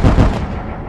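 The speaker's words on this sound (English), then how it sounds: "One or two more hits with the laser." A laser weapon fires in the space strategy game Sunrider, a single loud, deep booming blast that hits hard and then rumbles away within a second.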